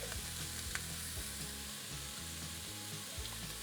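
Onions and garlic sizzle steadily in a hot, smoking pan for venison stuffed peppers, with a continuous close-up frying hiss and some stirring scrapes, no voices.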